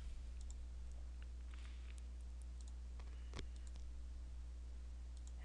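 A computer mouse clicks a few times, small and close, over a steady low hum in a quiet room, with no talking.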